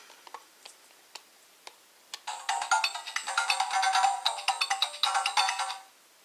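A few sharp clicks as a DX Zyuoh Changer toy from Doubutsu Sentai Zyuohger switches on, then a bright electronic jingle of chiming tones plays for several seconds with a pulsing rhythm before cutting off.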